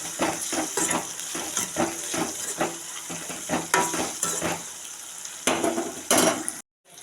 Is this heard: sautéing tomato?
yes